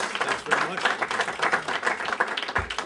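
Audience applause at a film society event, a steady crackle of many hands clapping throughout, fairly close and busy, with a voice faintly mixed in.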